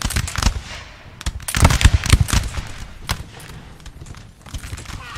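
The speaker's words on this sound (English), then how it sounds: "Grenadiers here, opening fire." Grenadiers fire a musket volley in the Napoleon Total War game: dense, crackling bursts of overlapping gunfire that swell to a loud peak midway, then thin into scattered single shots and distant pops.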